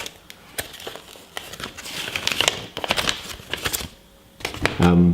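Paper inserts from the packaging of a Schrade SCHF2 survival knife with a ballistic nylon sheath being handled close up, with crisp crinkling, rustling and tapping bursts throughout and a louder clatter at the end.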